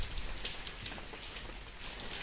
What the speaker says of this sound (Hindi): हल्की हल्की बारिश हो रही है।